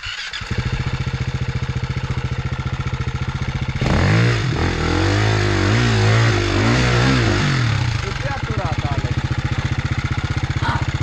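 An enduro motorcycle engine fires up and idles with a rapid, even putter, then revs hard in several rising and falling pulls before dropping back to a steady idle, loud and close, with people talking faintly underneath.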